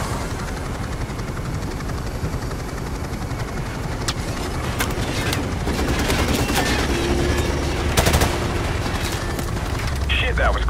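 Gunfire crackles in Modern Warfare Remastered amid a constant helicopter drone, with scattered shots and bursts of automatic fire at mid distance, a sharp louder volley near the end, over steady rotor noise and occasional radio chatter.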